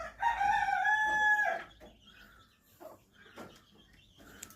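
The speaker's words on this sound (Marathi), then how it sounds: "ही पहा कोंबडी इथे बसलेली आहे" A hen on a rural Indian homestead where goats and calves are kept crows loudly and close for about a second and a half, then gives softer scattered clucks and rustling with no talking.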